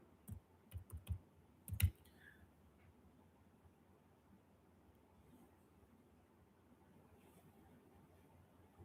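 Keyboard keys clicking in a short, uneven burst of a few keystrokes, then a long stretch of quiet background hiss.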